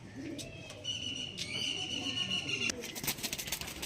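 Black diamond pigeons in a home loft coo softly nearby, with low repeated coos and a few short chirps over a faint background hum.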